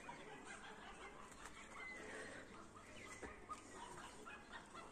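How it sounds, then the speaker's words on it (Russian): Chickens kept at distant houses cluck faintly and intermittently in an outdoor garden setting, with no talking. "Где-то вон там в домах куры кудахчут."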